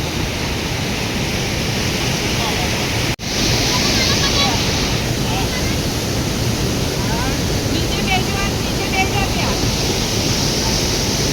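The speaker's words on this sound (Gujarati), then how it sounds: "સરસ મજાનો ધોધ" A waterfall in Canada roars in a loud, continuous, broadband rush of falling water, heard close and unbroken apart from a brief dropout.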